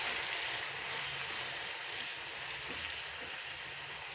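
Medium-sized tomatoes sizzle and fry steadily in a pan while being stirred, a continuous loud crackling hiss with no voices.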